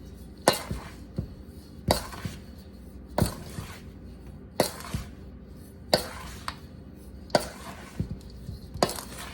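Homemade laundry soap ingredients with lavender scent being mixed in a container, with sharp knocks and scrapes recurring at a steady rhythm about every second and a half, close and moderately loud.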